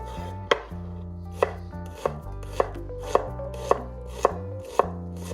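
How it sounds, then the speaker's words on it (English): A knife finely chops onion and garlic on a cutting board, producing eight or nine sharp, evenly spaced thuds over gentle background music, with no speech. "Start this recipe by finely chopping the onion and garlic"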